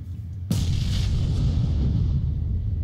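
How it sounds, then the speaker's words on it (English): A single loud grenade blast in the PUBG video game, a sudden sharp crack followed by a long, heavy rumbling decay that fills the rest of the moment. "Just run through the throwing grenades."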